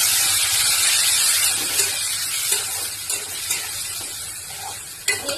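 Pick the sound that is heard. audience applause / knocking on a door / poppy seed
poppy seed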